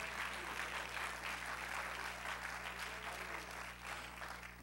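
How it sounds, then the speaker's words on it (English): A church congregation at a sermon claps hands in steady, dense applause that fills the whole stretch at moderate loudness, with a low hum underneath and no clear speech. "If you believe it, clap your hands and tell God"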